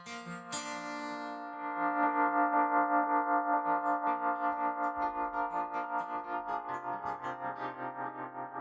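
A sustained, sharp musical tone shaped by a Baby Audio Transit 2 effects plugin, with a rhythmic pulsing tremolo wobble, flanger, delay and a distorted, ringing sheen.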